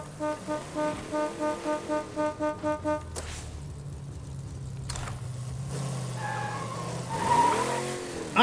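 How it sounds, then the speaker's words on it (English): A car horn honking in the zombie video game State of Decay 2: about ten short, evenly spaced blasts in quick rhythm, then a long held honk, over a low engine rumble, with no talking. "I can just honk and draw all the zombies to it"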